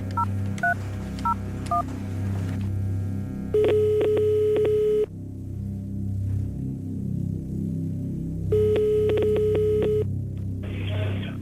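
Telephone keypad dialing tones come in short beeping bursts, then long ring tones pulse twice with pauses, all over a steady low hum before a phone call.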